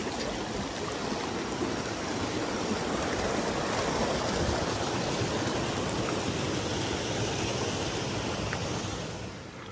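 Water flows into a terraced village paddy field where millet is being transplanted, a continuous broad rushing gurgle that holds steady and near for the whole stretch before easing slightly at the end.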